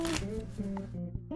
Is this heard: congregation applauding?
no